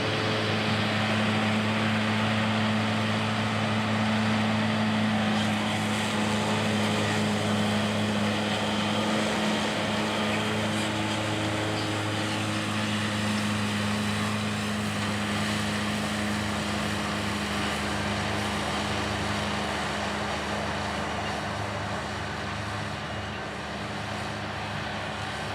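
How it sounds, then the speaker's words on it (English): A steady engine drone runs throughout with a low mechanical rumble and faint rattling as a John Deere 5055E tractor pulls a Krone Merge Max 300 merger windrowing grass in a field at moderate distance. "a John Deere 5055E and a Krone Merge Max 300 are windrowing the grass"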